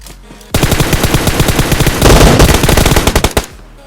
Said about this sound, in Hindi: अब सामने से मुझे गोली चलने की आवाज़ आती है।